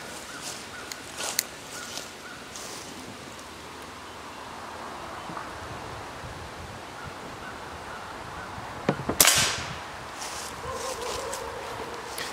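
A Crosman Pumpmaster Classic PC77 pump air gun fires a single sharp crack outdoors at a close target about 7 yards off, standing out against a steady backdrop of birds and light ambient rustle.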